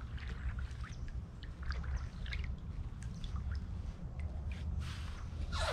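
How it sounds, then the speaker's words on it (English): A canoe or kayak is paddled steadily on a cold river, with soft water swishes, drips and trickles from the strokes close by over low wind rumble, and no one speaking. "we might better start kind of paddling steady"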